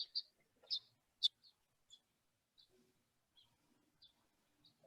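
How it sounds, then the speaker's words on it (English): Birds chirp outdoors in short, sparse, high tweets scattered across a quiet background, some clear and fairly close, others fainter, with soft clicks between. "Birds and their chirping reminding me how good it is to be outside."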